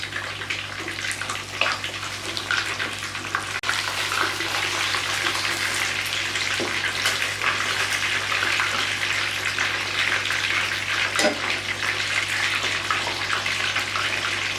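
Rohu fish fries in a pan with a steady, even hiss of sizzling oil, moderately quiet and unbroken, with no talk over it.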